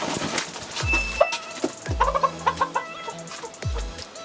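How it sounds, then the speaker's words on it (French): Several young backyard roosters clucking and squawking in a poultry yard, a loose run of sharp calls near the listener with some low thumps between them. "Voilà les coqs."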